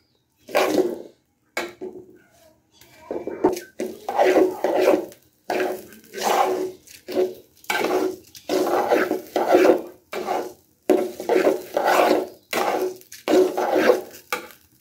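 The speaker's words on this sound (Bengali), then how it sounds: "এখন চালটা ভাজা হয়ে গেছে" Rice frying in a pot for pulao, stirred with a spatula in steady, repeated scraping strokes, each about a second long with short pauses between them. Loud and close.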